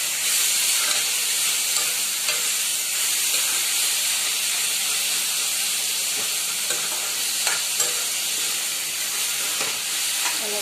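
Onion and onion paste frying in a pan, giving a steady, loud sizzle and hiss throughout with occasional faint stirring, no talk.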